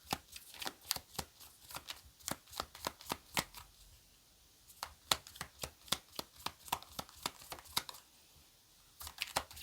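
Message cards being shuffled by hand in quick, repeated riffling flicks, close and fairly quiet, with short pauses between runs.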